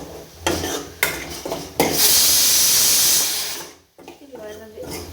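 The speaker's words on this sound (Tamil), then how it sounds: "வருது குக்கர் விசில்." A loud, sustained hissing whistle of a pressure cooker blasts for about two seconds, then cuts off, with kitchen clatter and voices before and after.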